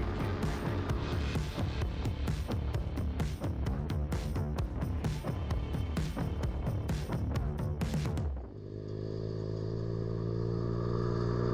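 A cheap Tiger ATV quad engine runs hard during off-road riding, a loud, steady, rattling roar with clatter that drops abruptly near the end into a lower, smoother drone.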